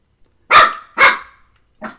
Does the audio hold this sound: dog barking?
yes